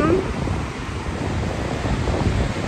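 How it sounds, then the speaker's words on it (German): High waves crash on the shore at Essaouira on the coast, a continuous broad rushing roar blended with gusty wind buffeting the microphone. "Aber die Wellen peitschen ganz schön hoch."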